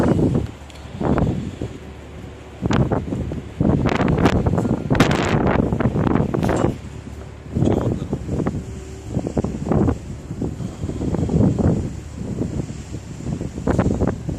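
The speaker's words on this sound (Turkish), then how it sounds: "Rüzgarın yaklaşık saatte 120 kilometreye ulaştı." Strong, gusty wind of about 120 km/h at an airfield roars and buffets the microphone throughout, rising and falling in loud bursts with brief lulls in between.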